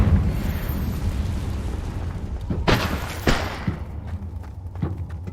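A Confringo fire spell goes off in Hogwarts Legacy, with two sharp explosive bursts a little apart over a dense rumbling battle bed, loud and close, followed by a few smaller thuds.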